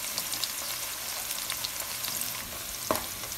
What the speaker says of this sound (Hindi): ऑयल में कटे हुए प्याज को फ्राई करना शुरू करें।